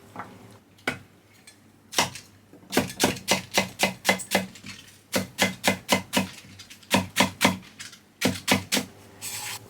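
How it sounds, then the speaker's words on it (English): Rapid, steady knife chops of spring onion, parsley and potato on a cutting board, coming in several quick bursts separated by short pauses, close and crisp with no talking. "So let's get started with chopping the ingredients."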